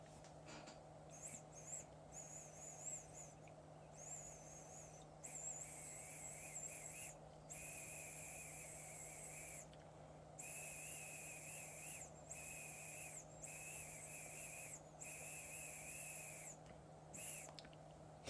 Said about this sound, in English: that whistling noise, which is me blowing air through this tube